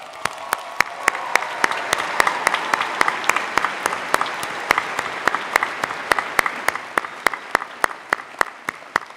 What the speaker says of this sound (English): Now give these graduates a resounding round of applause.